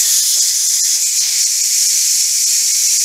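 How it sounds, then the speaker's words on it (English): Steam hisses from the release valve of a Power Pressure Cooker XL, a loud, steady, continuous high-pitched rush with no breaks. "now I'm going to go ahead and release the steam"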